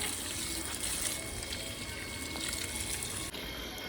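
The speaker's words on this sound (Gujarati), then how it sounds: "તો હવે આપણે થોડું ઘણું રીંગણીમાં પાણી પાયું, અહીંયા 2 કલમુમાં પાયું" Water pours onto brinjal plants in a home yard garden, a faint continuous gushing and splashing, steady throughout with a small break near the end.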